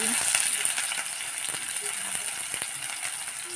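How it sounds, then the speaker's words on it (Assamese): Chopped onions dropped into fully heated oil for an egg and tomato dish, a loud, close, continuous sizzle with sharp crackles and a few light clinks of stirring, no voices. "মই এতিয়া ইয়াত পিঁয়াজ দিম, দেখিছেনে কেনেকৈ ফুটিছে"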